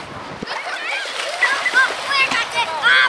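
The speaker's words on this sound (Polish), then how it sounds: "No, dzieci się już kąpią, wody się nie boją" Broadband splashing and sloshing seawater at a Baltic sailing event in Górki Zachodnie, Gdańsk, with children's voices calling out over it, lively and continuous.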